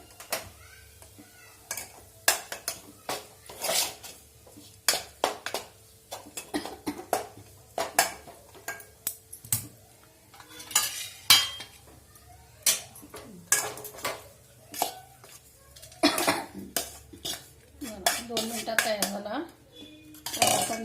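Crumbly, loose zunka made from gram flour stirred in a metal pan, giving a long run of sharp spoon scrapes and clinks against the pan in irregular bursts, close and clear, with no speech.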